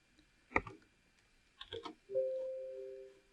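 Computer mouse clicks while opening a file in the Paint.NET photo editor: two quiet, separate click bursts about a second apart, followed by a brief steady tone.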